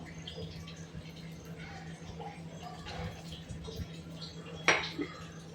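A mixed-dal appe is flipped in a non-stick appe pan in a home kitchen: a single faint metallic clink and scrape of the utensil against the pan, heard over a steady low hum and quiet background noise.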